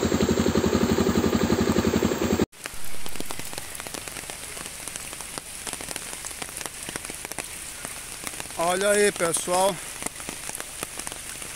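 Heavy overnight rain falls steadily across a street on Avenida Salvador in Rolim de Moura, a constant dense hiss of drops on surfaces. A vehicle engine idles underneath, a horn-like warble sounds briefly near the end, and someone speaks.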